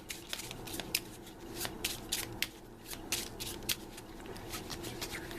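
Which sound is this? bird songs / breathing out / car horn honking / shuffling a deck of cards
shuffling a deck of cards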